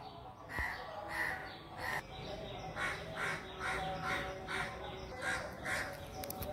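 Crows cawing in the morning near a house, a series of harsh, repeated caws at moderate distance in an irregular rhythm, with other birds faintly audible in the background.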